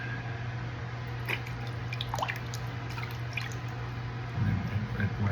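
A Henson AL13 razor rinsed under running water gives a steady close hiss of flowing water with a few faint drips, and the splashing grows a little louder near the end.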